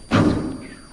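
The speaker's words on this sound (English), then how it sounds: "I'm going to bounce it off the floor. It's going to bounce off that back door." A rolled-up ball bouncing off a floor and a back door at a church fundraiser show, one dull thud with a short boomy tail, close and alone.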